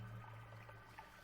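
Water draining out in the pixel-physics game Noita, a soft steady pouring and trickling wash that stays faint and even throughout, with no voices.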